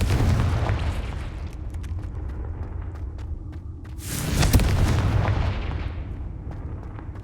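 A Confringo spell in Hogwarts Legacy sets off a booming blast, a burst of fiery crackle rising near the middle over a rumbling battle din, with smaller pops scattered before and after.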